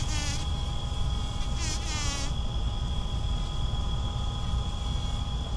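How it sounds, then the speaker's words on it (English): Close, steady buzzing of bumblebees on flowers on a farm, with a constant hum, brief louder wingbeat swells near the start, continuous throughout. "I'm a half inch from touching that bee with my mic"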